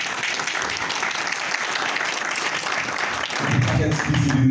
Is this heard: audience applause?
yes